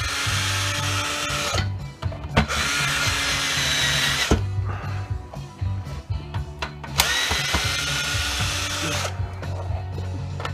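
A power drill driving screws out of a Ryobi 18V NiCd cordless 5-1/2-inch circular saw whirs loudly and close in long bursts, stopping briefly between screws with small clicks and rattles.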